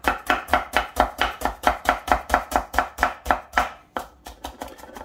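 A knife chops steadily through an onion on a cutting board, about sixteen quick even strokes close up, then a brief pause and a few lighter, looser cuts at the end.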